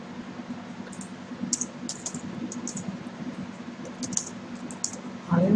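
Keys tapped on a computer keyboard while writing Java code, scattered light clicks in short bursts over a steady low hum, fairly quiet and close.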